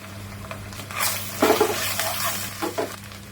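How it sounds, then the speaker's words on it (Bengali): Garlic, dried chilies and ginger paste stir in mustard oil for a hog plum pickle, giving a soft sizzle with spoon scrapes, the strongest bursts about halfway through, close and with no talk. "এখন সরিষার তেলের মধ্যে এগুলো হালকা নাড়াচাড়া দিয়ে নিব।"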